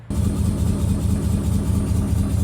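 A 1968 Dodge Charger with a swapped Hellcat engine runs in drive, a loud, close, steady low engine rumble with a slightly uneven pulse, heard alone without talk.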